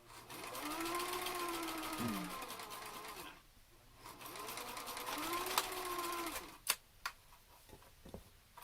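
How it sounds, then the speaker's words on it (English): A sewing machine back stitches a fabric face mask in two steady whirring bursts separated by a short pause, followed by a few sharp clicks and thumps. "I'm going to do a little back stitch there."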